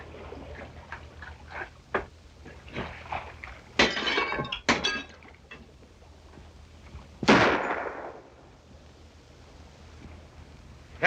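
A flare gun goes off aboard a ship in a 1936 film, a sharp bang followed by a bright hissing rush, after scattered cracks, clinks and bangs from the scene earlier on.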